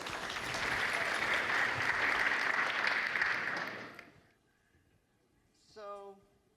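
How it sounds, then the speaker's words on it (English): Dense crowd applause at an evening celebration, a loud sustained round of clapping for about four seconds that fades out, followed by a short spoken phrase. "let's give them another round of applause"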